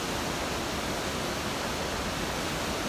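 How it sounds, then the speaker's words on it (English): Steady, dense roar of Ohiopyle Falls, water pouring over a roughly 20-foot drop across the full width of the Youghiogheny River, close and constant with no voices. "So these are the official Ohiopyle Falls. They span the entire length of the Youghiogheny River."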